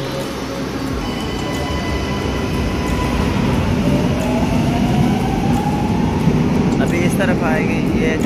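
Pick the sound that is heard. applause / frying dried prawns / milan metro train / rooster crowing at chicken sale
milan metro train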